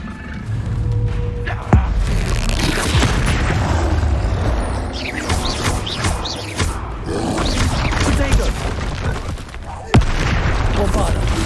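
Spell explosions from the Bombarda charm in Hogwarts Legacy, a few sharp booms cutting through dense continuous game battle noise and music, with a voice calling out spell names throughout.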